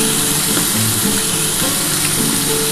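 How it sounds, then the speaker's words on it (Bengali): Tilapia fish frying in hot oil crackles with a loud, steady, close-up sizzle, unbroken and with no talking. "ভাজা হয়ে যাক তারপর তোমাদের দেখাবো"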